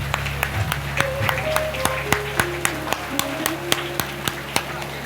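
Clapping welcomes a guest at the inauguration ceremony of the Kadi ITI, heard as a regular, evenly spaced run of sharp claps over a low hum and faint tones.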